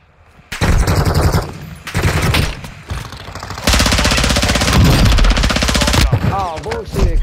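Automatic weapon fire in the Call of Duty DMZ video game on the Al Mazrah map: loud, close bursts of rapid gunshots broken by short pauses, with a brief voice sound near the end.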